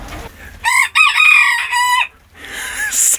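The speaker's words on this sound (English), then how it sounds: "there's a rooster in here" A rooster inside a chicken coop lets out a loud, close cock-a-doodle-doo in drawn-out ringing segments, followed by a quieter cluck or call.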